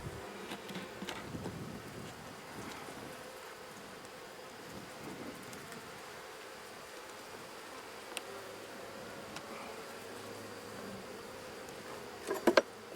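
Honey bees buzz around an open hive during a September inspection, a faint, steady drone with a few louder passes near the end and no talking.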